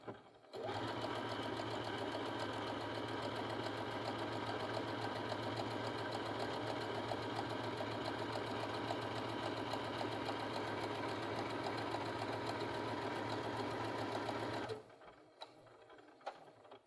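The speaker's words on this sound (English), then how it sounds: "Now let's begin by stitching." A sewing machine runs steadily, stitching fabric with a long 5 mm stitch length in one continuous, even whirring run of about fourteen seconds, close and alone.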